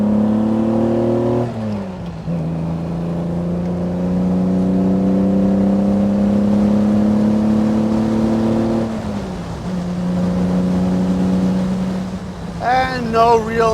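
A 1962 Aston Martin DB4 Series 4 Special Series convertible engine revs up steadily, drops as a gear changes, then climbs again through the next gear, loud and close with wind noise throughout.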